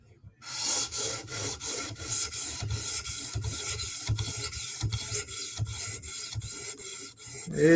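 A knife blade, a folding clip-style knife, being sharpened on a 400 grit whetstone, with steady rhythmic rasping strokes repeating about twice a second, close and clear with no talk.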